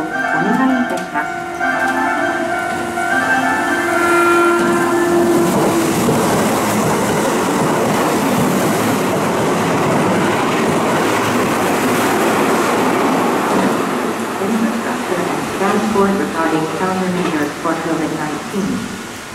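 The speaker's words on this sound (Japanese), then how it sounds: "電車が通過します。 ご注意ください。" A Keihan electric train roars through a station in Japan, loud and close, with rhythmic wheel clatter building midway; a recorded Japanese platform announcement warning of a passing train plays over the start.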